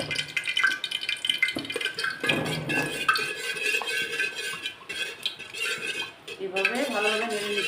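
Washed basmati rice is stirred with ghee in a cooking pot, giving repeated scraping and clinking of a metal spoon against the pot, steady and close.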